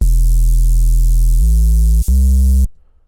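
A low sine wave mixed with white noise and driven through a saturator gives a loud, crunchy, buzzing distortion that steps up in pitch twice, briefly drops out, then cuts off abruptly into near silence.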